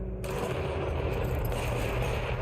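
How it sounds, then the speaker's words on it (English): Dense, continuous gunfire from the video game Control on PS5 fills the moment, a loud rattling burst that starts abruptly and carries steadily to the end with no talk. "the gunfire isn't good"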